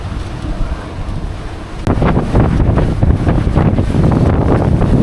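Sailing boat heeled on a beam reach in freshening wind, roaring gusts across the microphone and rushing waves against the hull, suddenly louder partway through and then sustained, close and without talk.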